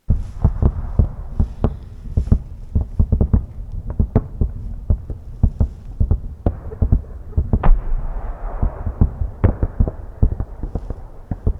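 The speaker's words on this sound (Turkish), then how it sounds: "Bakın yukarıda patlıyor fosfor bombaları." Phosphorus munitions bursting overhead at night over Bakhmut, a dense series of sharp booms and crackling pops at an irregular, rapid rhythm, loud and continuous without any talk.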